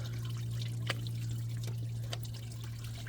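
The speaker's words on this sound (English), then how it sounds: "Pop it off, and there goes all the coolant." Engine coolant from a 2015 Chevy Silverado 5.3 pours out once the thermostat housing comes off, a steady splashing trickle with a few drips over a low constant hum, close by.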